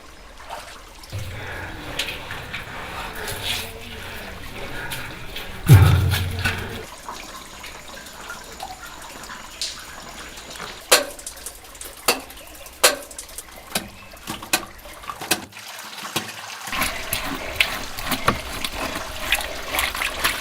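Water flowing by gravity, with no pump, out of a surangam, a hand-dug horizontal tunnel: a low, uneven trickle and splash, with scattered sharp knocks and splashes standing out in the later half.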